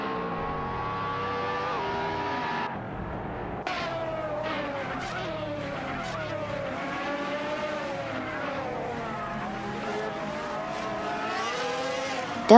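Racing video game cars including an Aston Martin Vantage roar continuously with rising and falling engine pitch as they shift and jostle, layered whines of several cars with occasional sharp bursts, no voices.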